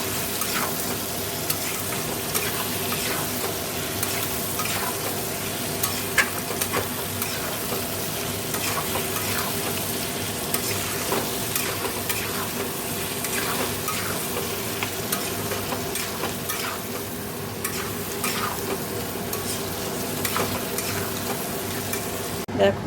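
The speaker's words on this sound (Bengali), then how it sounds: "ভালো করে কষিয়ে জল দিয়ে দেবো" Ground spices with salt, turmeric, cumin powder and sugar sautéing in a pan for a fish curry: a constant close sizzle runs throughout, punctuated by frequent scraping and clacking strokes of a spatula, with no speech.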